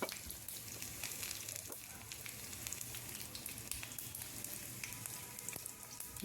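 Finely chopped garlic sizzles in hot oil for a dal tempering, a faint, even crackle and hiss with dense little pops running unbroken throughout.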